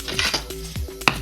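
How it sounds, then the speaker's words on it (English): A knife roughly chopping food on a board for a mackerel pâté with pickles, several quick close chops mixed with clattering utensil and dish sounds, no talking. "So chop that roughly"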